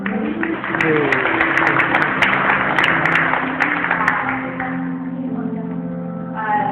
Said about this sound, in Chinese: 做一个掌声，好不好？